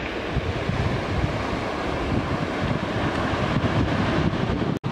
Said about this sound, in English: Ladies, we made it to Zenith Beach.